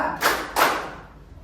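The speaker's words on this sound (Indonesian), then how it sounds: "Tepuk 1, tepuk 2," Two sharp hand claps in a classroom ice-breaking game, close and distinct, spaced about a third of a second apart, then fading into quiet.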